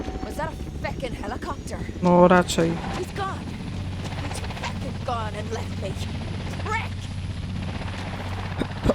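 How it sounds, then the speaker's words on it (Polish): Helicopters fly away in the Dead Island 2 video game, a steady rotor drone running under the game's sounds while people chat over it. "O, helikoptery już odlatują?"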